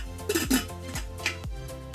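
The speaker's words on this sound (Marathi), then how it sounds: "हा कुकर बंद करून आपण" Metallic clanks and clicks of a pressure cooker lid being fitted and locked, several sharp knocks over two seconds, close by and fairly quiet.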